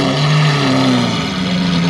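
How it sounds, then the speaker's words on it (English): Lamborghini engines rev loudly and steadily nearby, a dense continuous roar with shifting pitch. "All those revs you guys are hearing are all Lambos."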